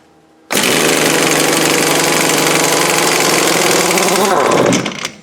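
A 1,000 foot-pound impact gun hammers at a tight crankshaft nut on a Land Rover 200Tdi engine, a loud, sudden, continuous rattling burst lasting about four seconds before cutting off, heard close with no talk.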